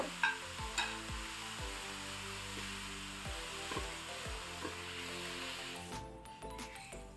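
Onions frying with half a teaspoon of salt for egg curry, a continuous close sizzle under repeated scraping strokes of a spatula against the pan, rhythmic and fairly busy, with no voices.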